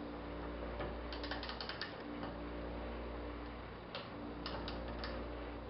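A torque wrench ratchets as it tightens a rifle piston set screw to about 30 inch pounds. Two short bursts of close, light clicking sit over a steady low background hum.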